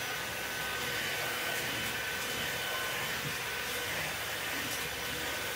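A Schenley wet dry vacuum runs with a constant, loud, broadband whooshing roar and high whine, steady throughout with no pauses.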